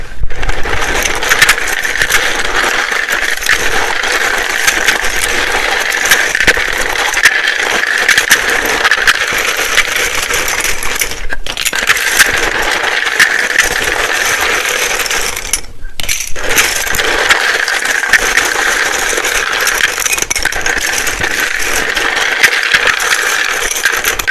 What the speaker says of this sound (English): It can be very loud when I shuffle these.